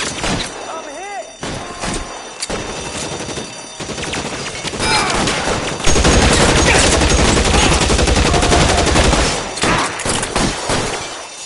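Dense bursts of gunfire in the video game L.A. Noire, rapid overlapping shots and heavy volleys building into a loud sustained fusillade, with voices talking amid the shooting.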